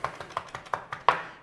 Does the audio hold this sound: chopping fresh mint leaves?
yes